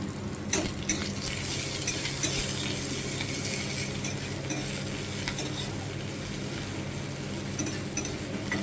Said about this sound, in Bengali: কড়াতে তেল দিয়ে দিয়েছি, পাঁচফোড়ন, একটু জিরে, একটু পেঁয়াজ দেবো